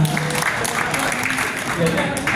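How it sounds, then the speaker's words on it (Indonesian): Audience applause at a talk for a man seated at the back, a brief burst of clapping from a crowd that mixes with a speaker's voice over it. "tepuk tangan untuk Bapak di belakang"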